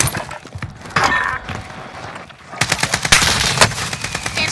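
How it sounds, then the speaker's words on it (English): Rapid automatic gunfire in the video game Call of Duty, with loud, repeated bursts crackling one after another at close range and continuing almost without pause. "They're shooting at me."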